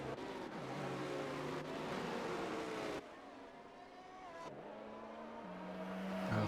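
Race cars in a racing video game at the Singapore circuit, trailing a safety car under caution, with steady engine drone and gear-shift pitch changes that swell louder toward the end.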